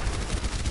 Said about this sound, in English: Sentry gun!